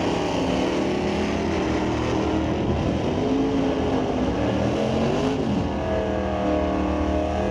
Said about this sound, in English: we have Derek Johnstone from Cloverdale, BC, in the 66 Impala convertible, lined up next to Norm Weber in the Corvette.